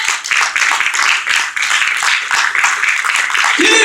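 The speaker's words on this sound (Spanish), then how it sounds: "den un aplauso al Señor" A church congregation claps in applause during a worship service, a dense, steady patter of many hands sustained throughout at close range, with a brief low voice near the end.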